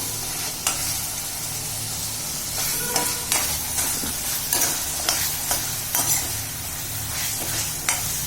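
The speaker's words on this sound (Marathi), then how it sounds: "सगळं मटण घालून घ्यायचं आणि परतताना परत गॅस मोठं ठेवायचा आणि मग परतायचं आपल्याला" Mutton for an Agri-style mutton rice is stir-fried on high flame, with a steady close sizzle and repeated sharp scrapes and clacks of a spatula against the pan, with no voices.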